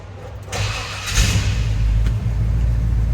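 A square body truck with 22,000 miles has its gas pressed, and its engine swells up from a low rumble into a loud, sustained rev close by.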